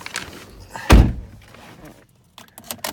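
A 2017 GMC Terrain SLE-1 SUV door thuds loudly and sharply at close range, with faint clicks, rustling and handling noises around it and a brief quiet gap.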